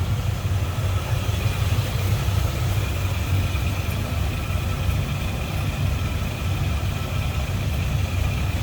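A 1941 Cadillac Series 62 coupe engine with a downdraft carburetor idles steadily and smoothly, heard close under the open hood as a constant low hum with no talking.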